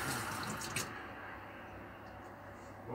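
Tap water runs steadily from a faucet into a sink while an item is rinsed clean, with a few brief splashes and clatters early on over the constant flow.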